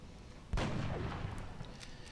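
In the strategy game XCOM: Long War, a single heavy boom of gunfire at Seekers hits suddenly, followed by a rumbling decay and a few faint clicks, moderately loud with no talking.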